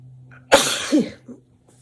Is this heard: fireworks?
no